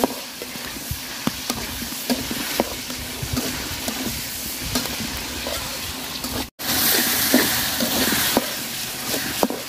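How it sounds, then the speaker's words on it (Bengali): Tomato fries in a spice masala in a pan, a steady loud sizzle with repeated scraping stir strokes and a brief dropout partway through. "তো মশলাটা আমি সুন্দর করে কষায় নিচ্ছি। টমেটো দিয়ে দিব"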